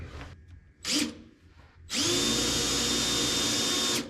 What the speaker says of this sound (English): I don't want to drill too far because my fuel tank is right there actually